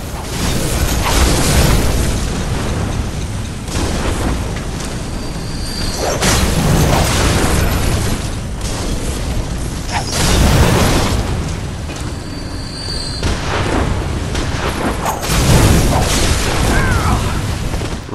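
Enemy fire in Bloodborne: The Old Hunters keeps coming at the player as a loud, dense wash of booming blasts and rumbling impacts that swell and recede in waves without letting up.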